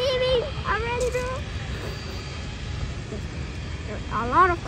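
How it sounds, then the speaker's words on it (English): Cargo jets, including Boeing 767s and 747s, taking off from an airport, a broad continuous engine roar underneath, with people talking briefly at the start and again near the end. "A lot of cargo planes are taking off."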